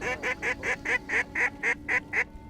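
Ten evenly spaced honking calls, loud and near, repeat in a fast regular rhythm from ducks coming in on a freeze-up hunt in the Dakotas, then stop; no one talks.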